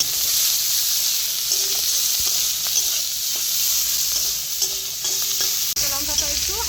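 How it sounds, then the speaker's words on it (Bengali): Chopped raw onion and green chilli hiss and crackle loudly in hot oil with cumin and dried red chilli tempering for a katla fish curry, a steady close sizzle with occasional ladle scrapes and clinks. "এবার দিয়ে দিচ্ছি এতে কাঁচা পেঁয়াজ আর কাঁচা লঙ্কা কুচি।"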